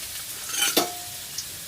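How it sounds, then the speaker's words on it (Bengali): Potatoes frying in a pan, one quick stirring scrape cutting through a soft, steady sizzle, heard up close. "তো আলুগুলো একটু ভাজা হোক।"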